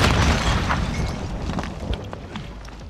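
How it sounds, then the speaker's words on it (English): A grenade goes off in an online battle royale shooter, a heavy booming blast that decays into rumbling debris and scattered pops over a few seconds. "Grenade out!"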